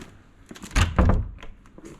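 A door swings open inside an empty stadium in Aarhus, giving a dull thunk and rattle at mid-clip over a quiet indoor hush, with no voices.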